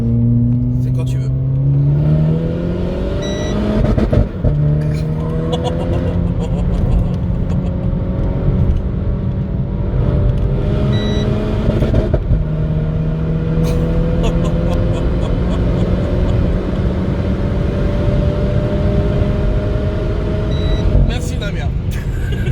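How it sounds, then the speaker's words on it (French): A Renault Clio 4 RS revs and accelerates through several gear changes, engine tone climbing in repeated sweeps, loud and close, with a brief break between shifts and no talking. "pour que Damien puisse nous faire une petite accélération"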